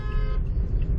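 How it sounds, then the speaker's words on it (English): A car horn honking in Tijuana traffic, a short loud blare at the start that cuts off quickly, over a steady low rumble of road traffic. "Oh yeah, people like to honk."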